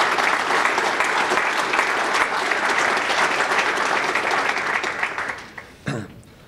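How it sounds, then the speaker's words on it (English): Strong crowd applause fills a civic address hall in honour of the local fire department, dense and steady before tapering off, with a single thump near the end. "let's give a big round of applause for our fire department"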